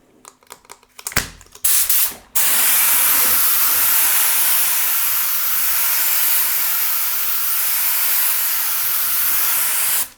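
A pro paint spray gun, preceded by a few sharp clicks and short bursts, then a loud, steady, close hiss of spraying that runs unbroken for about eight seconds, with no talk.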